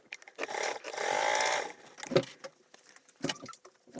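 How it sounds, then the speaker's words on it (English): A sewing machine top stitches a fold on a large foldable tote bag, running in one sustained burst near the start, then falling to brief handling knocks and rustles, close and moderately quiet. "we are top stitching that with a 1/8 seam allowance"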